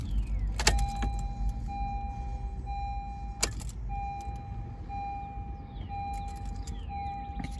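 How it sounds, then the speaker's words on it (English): A 2019 Honda Civic LX starting up from inside the cabin, with a low rumble at the start, two sharp mechanical clicks, and a steady electronic chime tone that sounds in separate stretches. "So we'll go ahead and start up the Civic."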